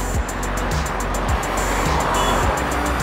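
Steady loud roar of highway traffic in Punjab, with several vehicles whooshing past close by one after another over a continuous rushing background, no talking.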